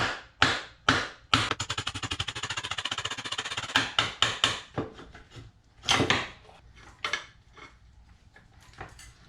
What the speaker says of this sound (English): I couldn't find my rubber hammer, so I'm gonna go with brass, just a little tap